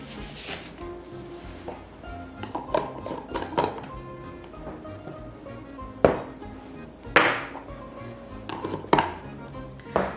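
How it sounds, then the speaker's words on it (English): Glass jars of preserved lemons with rosemary and bay being lidded in a kitchen, with scattered clinks, taps and a few sharp knocks of lids against glass, close and irregular. "So we're gonna lid these up."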